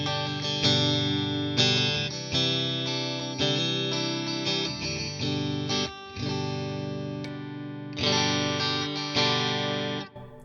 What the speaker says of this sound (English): if you use the Gilmour mod, it brings in the neck as well, so you've got all three